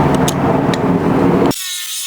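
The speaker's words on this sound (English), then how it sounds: "You want to go ahead and get an Allen key and remove those." An Allen key turns out the screws on a KC Flex Era 3 fog light being installed on a Tacoma, with close, dense scraping and ratcheting tool noise that cuts off abruptly into a quieter hiss.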